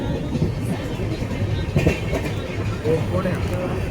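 A steady low rumble and rattle fill a crowded carriage of a moving train, with people talking nearby over the continuous rail noise.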